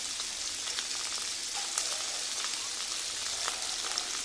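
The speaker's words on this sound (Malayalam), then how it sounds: "ഇനിയും തേങ്ങ വറക്കാം" Grated coconut, chili and coriander fry in a spoonful of coconut oil for a fish curry masala, giving a steady, close crackling sizzle with faint pops and no voices.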